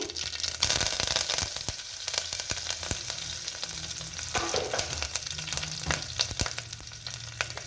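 Garlic and curry leaves crackle and spit in hot tempering oil in a pan, a close, busy sizzle dotted with sharp pops and light stirring.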